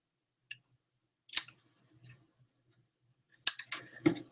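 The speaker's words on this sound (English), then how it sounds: "One of them you're just going to snip right in the middle." Scissors snip paper into petal shapes in a few crisp, close cuts separated by quiet pauses, with a quick burst of snips near the end.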